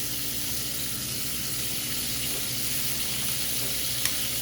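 Shrimp frying with ginger in a pan, giving a steady close sizzle throughout with faint stirring and a single small pop near the end, no voices.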